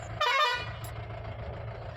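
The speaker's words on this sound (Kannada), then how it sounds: "ಇವಾಗ ಹೊಡಿದೆ ಏರ್ ಹಾರನ್ನು." A mini truck's air horn gives one short, sharp blast, followed by low engine idle rumble nearby.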